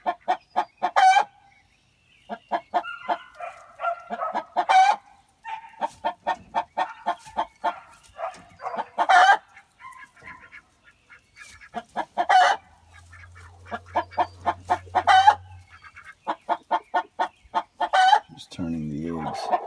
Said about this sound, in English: production red's back on the nest again